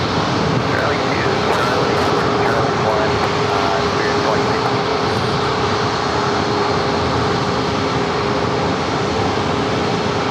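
A Spirit Airlines jet lined up on runway 27 at San Diego airport for a Las Vegas departure, its engines giving a steady, loud, broadband roar that holds unbroken throughout.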